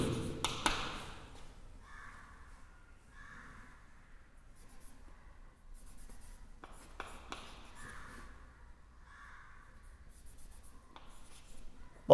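Chalk or marker strokes on a board during an algebra lesson come in short scratchy bursts separated by quiet pauses, with a few taps and knocks in a mostly hushed room.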